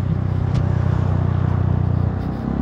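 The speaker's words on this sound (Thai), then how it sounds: "มินิเหยียบคันเร่ง อย่ามาเหยียบคันเร่งต่อหน้าฉันนะ" A Ford F350 pickup engine held under throttle, a loud, steady, pulsing drone with a fast even rhythm, close by and alone without talk.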